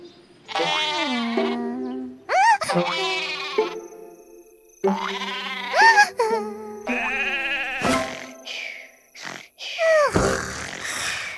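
Cartoon sheep in a kids' counting app bleat one after another in a string of loud, wavering, close baas separated by short pauses, with a few springy boing-like sound effects mixed among them.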